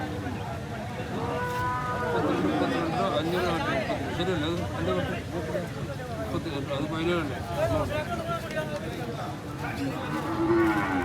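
Young bulls and cattle at a livestock market low and moo repeatedly amid a busy crowd, their calls rising over steady chatter. People talk close by throughout.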